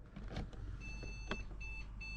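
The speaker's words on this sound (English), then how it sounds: "Obviously there's a bit of beeping going on at the moment." Steady high electronic beeping tones from a new gaming PC, on for several seconds then pulsing in short repeated bursts, over a low fan-like hum with a couple of brief clicks.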